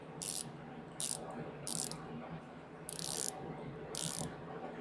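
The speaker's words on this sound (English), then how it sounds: "So it's kind of like little mini ratchets." A mini ratchet screwdriver from a 35-bit set clicks in five short bursts of rapid metallic ticking, close and fairly quiet over a soft room hum, with no talk.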